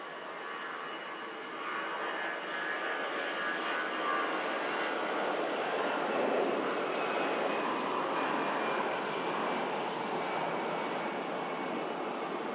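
Lauda airliner taking off at Manchester Airport, a steady broad jet engine roar that swells slightly and holds, heard from a distance with no voices.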